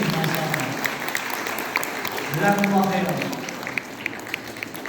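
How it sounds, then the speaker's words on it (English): An audience claps in a round of applause honoring a mother at a Quran memorization gathering, steady and moderately loud beneath a voice speaking over it. "a big round of applause to the mother of the generation"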